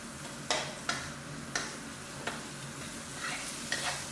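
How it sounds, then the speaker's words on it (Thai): Pounded curry paste stir-fried over low heat, with a soft, quiet sizzle and regular sharp taps of a spatula against the pan about once every half second, without any voices. "ตามด้วยเครื่องผัดที่เราโขกไว้เมื่อสักครู่นะครับ โดยใช้ไฟค่อนข้างอ่อนนะครับ ผัด เรื่อยๆนะครับจนหอมนะครับ"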